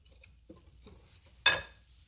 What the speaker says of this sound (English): I'm going to give this a mix with my whisk first to get all those ingredients kind of incorporated.